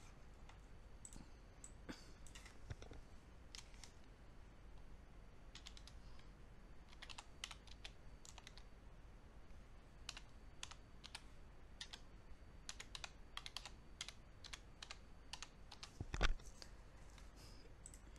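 Computer keyboard typing in quick irregular bursts of soft clicks over a quiet room background, with one louder knock near the end, while customer and company details are entered during a server software installation.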